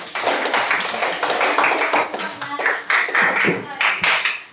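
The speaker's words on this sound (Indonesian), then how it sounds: "Tepuk tangan buat kelompok" A classroom audience applauds a student group after its presentation, a dense and steady burst of clapping that carries on for several seconds with voices mixed in.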